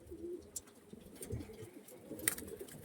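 Soft pigeon coos from pied-eyed (taki-eyed) Kalpora-line breeding pigeons, appearing as a few low, murmuring calls at close range, with faint rustling and brief sharper clicks heard in the background.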